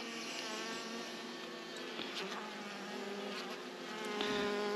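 Honeybees buzz in a steady droning hum around an open hive during beekeeping and queen handling, a close continuous swarm sound that swells slightly toward the end.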